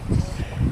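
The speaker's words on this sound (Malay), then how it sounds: "Ada kuat angin." Strong gusty wind buffets the microphone outdoors beside a river while fly fishing, a low rumbling roar that swells and fades in pulses through the short moment, close and fairly loud.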